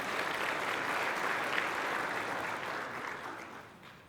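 An audience at a Harker Heights Chamber of Commerce community celebration applauds the event sponsors, a moderate, even patter of clapping from a crowd that holds steady and then slowly tapers off.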